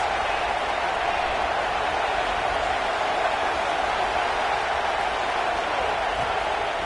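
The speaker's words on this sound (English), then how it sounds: "This crowd trying to make life miserable for this offense." Steady, dense roar of a large stadium crowd at an LSU football game against Tulane in a video game, a continuous wash of noise with no breaks, moderately loud and even throughout.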